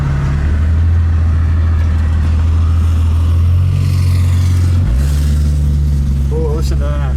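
A 1965 AMC Rambler American 220 station wagon engine hums loud and steady from inside the car while driving, then steps up in pitch as it revs. Voices talk faintly over it near the end.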